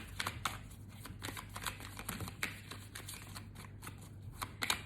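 Tarot cards are shuffled close up, a quiet run of crisp riffling and flicking snaps in uneven bursts, with no talking.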